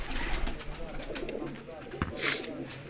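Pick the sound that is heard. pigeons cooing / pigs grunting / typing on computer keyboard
pigeons cooing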